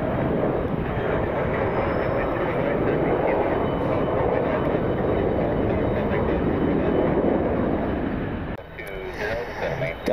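Steady, loud broadband roar of a United A320 airliner on the runway at Detroit Metro Airport, rumbling continuously and near before dropping slightly at the end.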